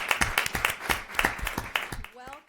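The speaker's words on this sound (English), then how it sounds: "Give yourselves a round of applause." A Greenburgh community crowd gathered for a Puerto Rican flag ceremony claps and cheers in a steady burst of applause that tapers off near the end, with a voice mixed in.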